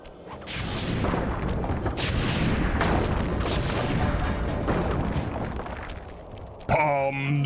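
The Flame Fu firework attack in the Sly 3 video game sets off a loud, dense barrage of booms and crackling bursts that rumbles for several seconds, then cuts off as a voice speaks briefly at the end.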